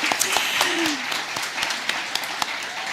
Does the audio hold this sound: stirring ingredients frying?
no